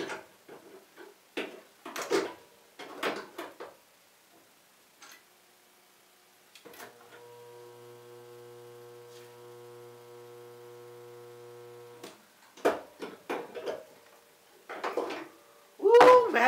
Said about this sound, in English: we got this new tool, this magic little thing called a spot welder, and it's a Harbor Freight Chicago Electric 110 volt spot welder